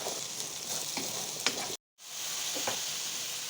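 Sliced mushrooms fry with a spoonful of salt in a hot pan, a steady close sizzle with occasional stirring scrapes and a brief cut to silence midway.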